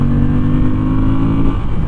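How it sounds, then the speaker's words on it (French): Moto Guzzi V7 Sport motorcycle engine revving hard up to its 7000 rpm limiter, a loud, close, sustained mechanical roar with a steady pitch that breaks up slightly near the end. "le limiteur arrive à 7000 tours"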